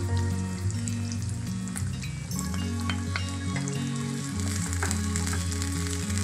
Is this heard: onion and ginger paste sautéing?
yes